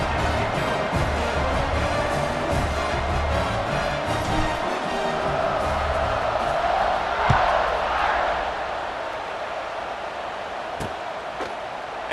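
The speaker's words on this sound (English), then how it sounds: "and this crowd now ready to get behind them" Stadium crowd in the College Football 2026 video game roaring at kickoff, a broad sustained wash of cheering with a swell near the middle, heard alone without commentary.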